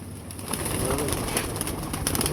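Teddy pigeons coo and flutter close by, a steady birdy murmur over a constant background hum, with no talking.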